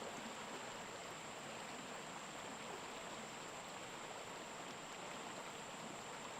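The Tungabhadra river flowing past its bank, a steady, even rushing of water that holds at a constant level throughout, heard alone with no talking.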